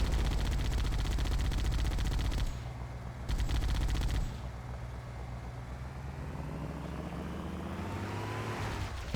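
Gunfire in the video game Halo: Combat Evolved, a dense, continuous burst of shots over a droning vehicle engine and game sounds, loud and steady with a brief break partway through.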